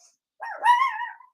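A single short dog bark, rising then trailing off into a whiny tone, fairly close and clear.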